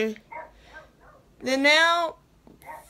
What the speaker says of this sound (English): if you can hear her barking in the background.